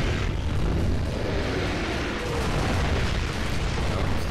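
Sustained loud, roaring blast with rumbling low end from an explosion in Gears of War 3, continuous for several seconds with no speech over it.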